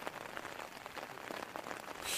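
Rain patters steadily on a surface during the rainy season on an Annapurna mountaineering expedition, close and continuous with no voices.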